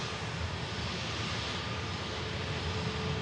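Hainan Airlines Airbus A330 jet climbing steeply after takeoff from Manchester Airport, a steady broad roar that holds throughout, distant but full.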